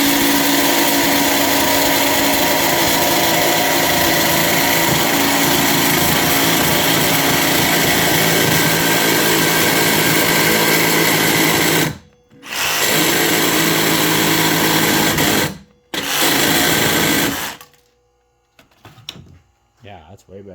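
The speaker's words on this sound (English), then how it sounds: "the jigsaw is not ideal. The vibration caused a bunch of paint to get knocked off" A jigsaw cuts a workpiece clamped in vise grips held in a vise, whining loudly and steadily with heavy vibration, briefly stopping twice before cutting out, followed by faint handling noises.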